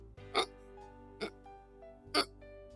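A storyteller's voice imitates hiccups three times at a steady, spaced rhythm, short and close over a quiet music backing.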